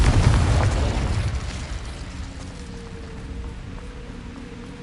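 A Confringo blasting curse goes off in Hogwarts Legacy: a loud, booming burst at the start that rolls into a long, fading rumble, with a faint tonal whine lingering afterward.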